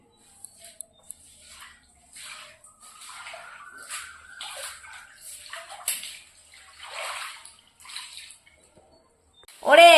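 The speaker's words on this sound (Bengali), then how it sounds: "বালতি বালতি জল নিয়ে এসে পুরো ঘরে ঢেলে দিচ্ছে।" Buckets of water are poured and swished across a room floor, giving scattered soft splashes and sloshes at moderate distance, ending with a louder close burst.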